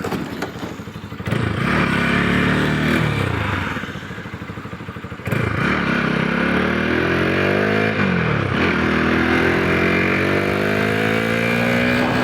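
A motorcycle rides along a road in the Nakkati Hills near Bongaigaon, its engine revving and shifting loudly and steadily for about twelve seconds with rising pitch sweeps, clatter and occasional thumps.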